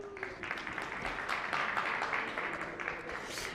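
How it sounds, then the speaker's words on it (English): An audience at a cricket awards ceremony applauds, a soft, steady patter of many hands clapping at moderate distance through the whole stretch, with no talk over it. "can you please give them a round of applause, everyone?"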